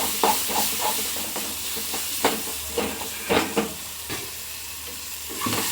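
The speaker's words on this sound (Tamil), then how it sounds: "இதுக்கு கூட இப்போ நம்ம வத்தல் பொடியை ஆட் பண்ணிக்கலாம். ஆட் பண்ணி நல்லா கிண்டி விட்டுக்கலாம்." Tomato chutney with chilli powder being stirred and sizzling in a pan, a hissing bubble broken by repeated scraping strokes and knocks of a spoon, close and fairly loud, with no one speaking.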